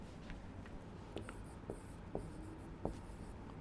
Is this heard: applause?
no